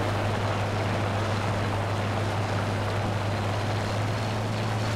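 A Bf 109 F-4 fighter engine drones in War Thunder realistic battles, a steady loud hum with a strong low tone over broadband wind roar, constant and unbroken throughout.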